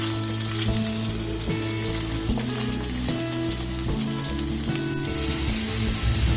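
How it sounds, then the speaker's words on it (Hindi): Taro root (arbi) frying in hot oil for a dry spiced curry, a steady, dense sizzle that stays loud and continuous throughout, with occasional stirring clatter and no voices. "इसमें मैं इस अरबी को नरम होने तक तल लूंगी"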